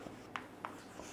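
Pen or marker writing on a board during a chemistry lesson on SN1 and SN2 reactions, heard as three short, faint scratchy strokes spaced apart against quiet room noise.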